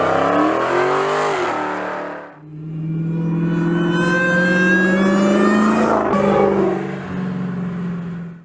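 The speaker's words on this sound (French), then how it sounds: "la particularité du compresseur, c'est que ça fait un bruit très rigolo." Supercharged engine of a Dodge Challenger SRT Hellcat Redeye revving loud and close, pitch rising and falling in long sustained pulls with a brief dip between, alone with no talk.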